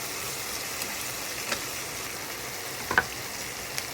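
Onions fried to a crisp brown with ginger-garlic paste in a pan, a steady soft broadband sizzle with a few faint clicks of stirring, no voices.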